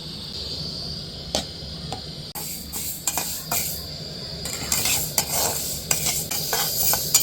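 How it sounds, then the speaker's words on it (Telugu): Fenugreek seeds are roasted in a pan for a pickle, with dry rattling and scraping as they are stirred, plus a faint sizzle, close by and without talk. "మెంతులు వేపుకుందాం"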